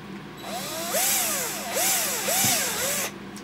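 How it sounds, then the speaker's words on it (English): A power drill whirs loudly in several short bursts while drilling a small pilot hole to modify a Gotek floppy drive emulator, its pitch swooping up and down as the bit bites and eases, with no talking. "So here's my drill. I'm going to put a smaller hole first."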